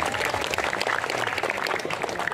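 An audience applauds in a dense, steady burst of clapping that carries on for a couple of seconds without a break.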